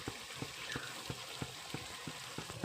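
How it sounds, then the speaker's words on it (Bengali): Spice paste with fried onions, salt and turmeric sizzles in a pan for egg kosha, with a steady hiss broken by regular spatula scrapes and taps roughly every third of a second. "এই মশলাটাকে এবার ভালো করে কষিয়ে নেব।"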